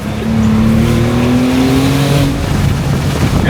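A 2024 Maserati GranCabrio Trofeo engine revs loud and close, a sustained roaring note that climbs gradually in pitch and holds steady for a few seconds with no talking.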